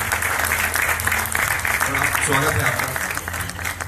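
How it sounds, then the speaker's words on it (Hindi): Audience at a film trailer launch event breaking into loud, dense applause that holds steady throughout, with a voice speaking over it briefly. "मान साहब के लिए जोरदार तालियां हो जाएगा,"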